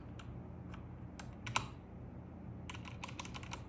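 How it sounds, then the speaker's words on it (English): Keystrokes on a computer keyboard as the enter key is pressed several times; scattered sharp clicks, with a louder distinct press in the middle and a quick cluster of taps toward the end, close and quiet with no talking. "Pressing the enter key will create a new line on the notepad like this."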